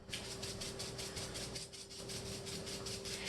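A block of salt is grated on a grater in steady, continuous scraping strokes, fairly quiet and close, with a faint hum beneath.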